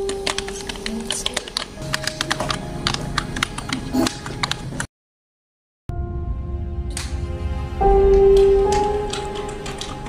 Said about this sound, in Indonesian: Insinyur Soekarno meminta bantuan Sayuti Melik untuk mengetik naskah tersebut